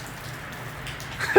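Rain falls steadily outside a grocery outlet, a soft even patter that stays constant and close, with a slight rise in noise at the very end and no speech.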